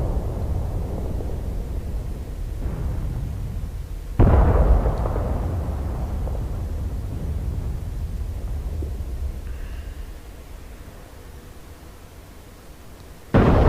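Artillery fire and explosions in the combat flight game DCS World: a deep booming blast jolts in partway through, followed by a long rumbling decay, with another sharp burst at the very end.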